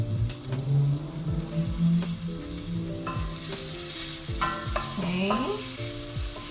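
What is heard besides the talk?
garlic frying and sizzling in a pot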